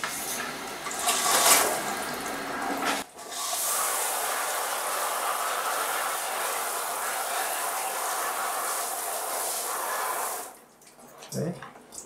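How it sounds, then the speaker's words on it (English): Running tap water rinsing a gum oil print, a steady broad hiss of flowing water for several seconds that cuts off near the end, with some brief handling noise. "start to give it a wash with running water."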